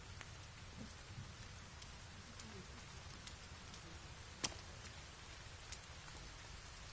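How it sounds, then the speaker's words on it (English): In-game rain falls in The Forest as a soft, steady patter, with faint droplet ticks and one sharper hit near the middle, quiet and unbroken. "Why is it raining?"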